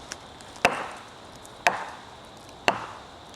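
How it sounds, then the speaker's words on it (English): Wood knocking on trees in the woods to call creatures: three sharp, hollow knocks spaced evenly about a second apart, each ringing briefly against a quiet outdoor background. "So this first trick I'm going to use is called the wood knocking."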